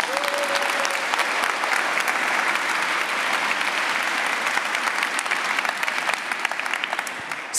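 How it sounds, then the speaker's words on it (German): Audience at an Antiquity Slam evening, a lively storytelling show in front of the Ishtar Gate, gives a long, dense round of applause, loud and sustained with scattered sharp claps standing out and no speech over it. "Kräftigen Applaus für unsere Zeitnehmerin"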